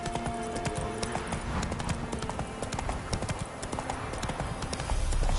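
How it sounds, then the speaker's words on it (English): In the video game The Witcher 3, a horse's hooves clip-clop in a quick, steady rhythm up close, sounding alone without speech and building slightly louder toward the end. "Whoa there, Roach."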